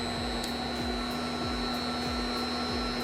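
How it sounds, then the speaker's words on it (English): An electric load motor driven by a variable frequency drive runs steadily at 60 Hz with a constant tonal whine and hum, joined by faint rhythmic ticking, loud and close with no voices. "So we'll turn on the load motor and bring our preset speed up."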